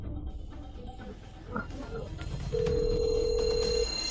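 A telephone rings with a steady electronic tone as a call goes out, heard alone over a rumbling indoor background.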